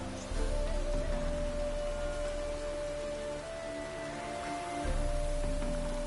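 Steady rain pours in the open world of The Witcher 3: Wild Hunt, a constant hiss with a soft sustained tone running beneath it and no one speaking.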